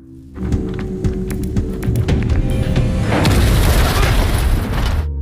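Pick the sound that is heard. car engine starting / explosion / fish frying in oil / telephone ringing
explosion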